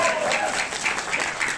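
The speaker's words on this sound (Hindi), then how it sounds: "अब की बात ताली कम बजी" Audience applause during a leadership training session, brisk continuous clapping from a crowd, fairly close and full, with faint voices mixed underneath.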